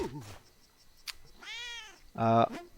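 Meowing of a cat in the video game Spelunky 2: two short harmonic mewing calls, the second louder and more strained, over quiet game background with a little talk at the start.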